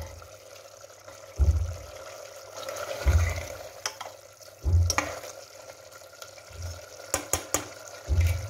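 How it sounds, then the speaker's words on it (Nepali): Chicken with onion and tomato fried and stirred in a pan for a Nepali-style local chicken curry, heard as a soft continuous sizzle broken by five low thumping stirring strokes at steady intervals, plus a few sharp clinks near the end. "अब यसलाई म मजाले भुट्दै छु।"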